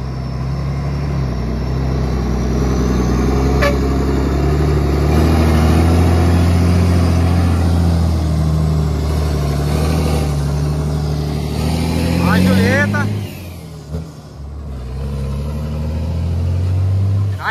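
A loaded logging truck, the number 38 rig, pulls away in a two-truck convoy, its deep diesel engine note rumbling steadily and close before fading. People talk over the engine noise.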